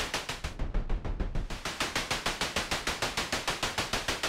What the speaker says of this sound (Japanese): ノイズもノイズのカラーを変えることができます。